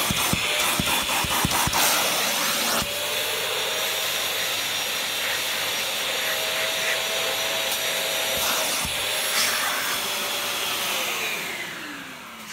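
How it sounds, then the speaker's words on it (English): MA-FRA Geyser vacuum cleaner with a 1.1 kW motor running at manual power, a loud steady whine and roar that holds for the whole stretch, briefly dipping once near the start, then tapering slightly at the end. "We'll switch on main power and then go for a manual vacuum power."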